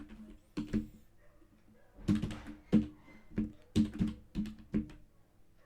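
Keys clack on a computer keyboard as Python code is typed, a faint, irregular series of distinct taps with short pauses between them.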